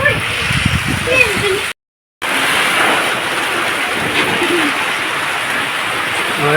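Heavy rain pours down steadily over a village, a dense close hiss that briefly cuts out once and then resumes, with some voice faintly mixed in near the start.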